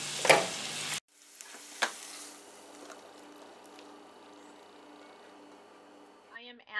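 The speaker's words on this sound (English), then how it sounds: "and let it saute for about 4 minutes" Food sautéing in a pan for a Philly cheesesteak gives a steady, soft sizzle that carries on in the background after a couple of sharp utensil clatters.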